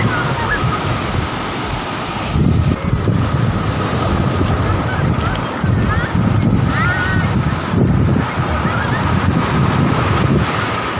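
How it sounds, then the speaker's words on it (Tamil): Water waves wash steadily onto a village shore beneath heavy wind buffeting on the microphone, with surging swells every few seconds and voices faintly in the background. "அஜு அஜு இங்க பாரு, தண்ணி வருதுரா."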